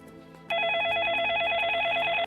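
A telephone rings with an incoming call on a live call-in radio or TV show: a steady, loud electronic trill repeating in rapid pulses for nearly two seconds after a quiet start, with no talking over it.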